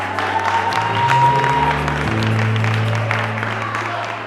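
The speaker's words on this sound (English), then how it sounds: "A huge round of applause for you." Applause from the audience at a university gala dinner fills the room as a steady wash of clapping over a low hum, holding for several seconds and then easing slightly.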